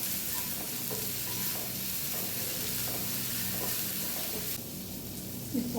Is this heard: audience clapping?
no